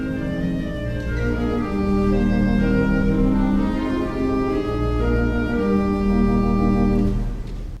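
A theatre organ plays a song's fourth chorus after a key change, with full sustained chords over a deep bass and a bright moving melody, loud and continuous with no voices.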